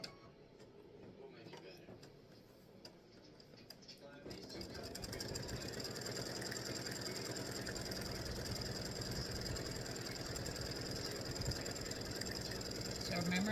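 An embroidery machine stitches zigzag squares for a Halloween tic-tac-toe board set, its rapid mechanical whir starting after a few quieter seconds and then running steady and continuous to the end.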